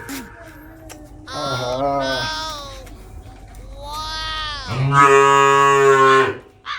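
Two long, loud cow moos with rich harmonic tones, the second louder and closer, separated by a brief lull of faint background noise.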